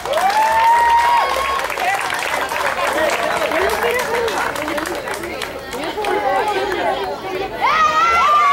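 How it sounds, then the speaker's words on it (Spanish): A crowd applauds at a sports event in Cubiri del Amole in March 2017, a loud continuous patter mixed with crowd chatter and voices talking over it. "¡Fuerte el aplauso!"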